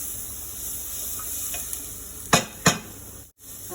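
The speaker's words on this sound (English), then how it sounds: "So I've just added onions, garlic, and carrots. Okay, now as you can see that it's been fried properly." Onions, garlic and carrots fry in a pan as the base for lamb shanks, giving a steady soft sizzle with a couple of sharp spoon-against-pan clacks and a short break near the end.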